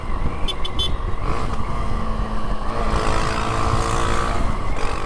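A car engine revs loudly and steadily on Avenida Paulista in São Paulo, roaring close by at a car gathering for the full stretch with a strong, sustained drone.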